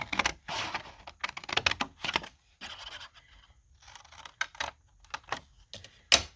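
Scissors snip through paper along a paper clip, a run of crisp, close cuts in irregular bursts with short pauses between them and no talking.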